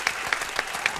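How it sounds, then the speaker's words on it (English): A studio audience claps for a hip hop guest DJ in a brief burst of applause, sharp hand claps spaced in a quick rhythm, close and steady with no talking. "I just want to give a round of applause for our guest DJ today"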